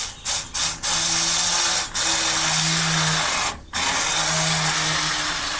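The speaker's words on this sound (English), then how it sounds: "if you're using mixer to blaze this, so make sure the tomato sauce is cool" A blender or mixer purees cooled, cooked tomato sauce for homemade no-sugar ketchup, giving a loud, steady motor whir that briefly dips a few times near the start and once more midway before running on.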